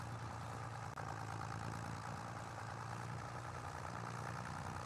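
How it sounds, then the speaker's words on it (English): A tractor engine in a video game idles at a steady low drone, quiet and unbroken, with no talk. "You can hear the tractor running."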